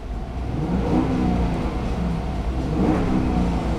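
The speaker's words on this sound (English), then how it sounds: "Hear that nice V8 torque right up there" A 2011 Jeep Grand Cherokee Overland V8 revs steadily up close, a deep, sustained engine roar that swells and holds for several seconds with no talking.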